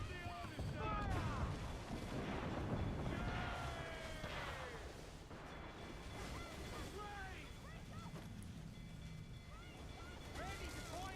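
Ship cannons fire in the pirate naval combat of Assassin's Creed Black Flag, faint booms among sea and wind noise, with shouted voices and chirpy game sounds.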